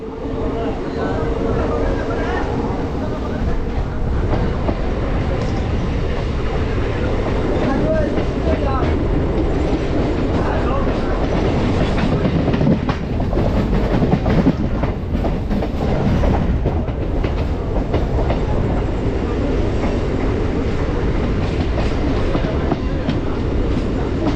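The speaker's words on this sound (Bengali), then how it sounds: "এই হচ্ছে ব্যান্ডেল থেকে আমাদের ট্রেন ছেড়ে দিল।" A midnight Barddhaman-bound local train pulls out of Bandel station and runs on the rails, a steady loud rumble with clickety-clack wheel beats, heard from inside a carriage while someone talks over it.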